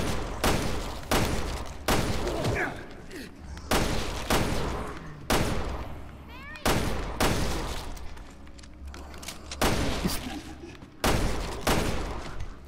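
Loud bursts of gunfire in Resident Evil Revelations 2, a dozen or so heavy shots and short volleys spaced a second or two apart, each trailing into a brief rumble, with no talking over them.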